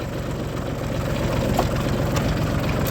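A tractor engine idles at low throttle with the PTO engaged and parking brake set, a steady, close, continuous rumble with a faint regular knock and no talking.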